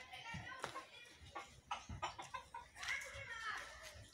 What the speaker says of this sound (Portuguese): Olha as galinhas.